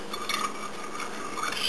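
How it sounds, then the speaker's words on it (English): Utensil stirring lye solution into oil in a container for homemade soap, a soft, continuous scraping and light clinking over about two seconds with no voices. "first I'm just going to slowly drizzle this in there and stir it with this"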